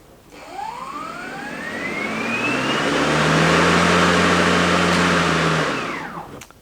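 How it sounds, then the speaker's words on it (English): A Ryobi mower's electric blade motor spins up, its pitch rising steadily to a loud sustained whine with a low hum beneath, holding for a few seconds and then winding down near the end. "the blade should turn on"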